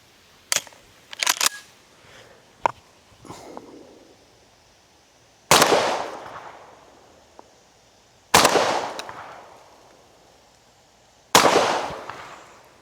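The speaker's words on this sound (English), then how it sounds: "we're just gonna hit it with a couple rounds of birdshot" Three loud, sharp birdshot shotgun blasts fired at a laptop outdoors, each evenly spaced a few seconds apart with a long decaying echo, after a few lighter clicks and knocks.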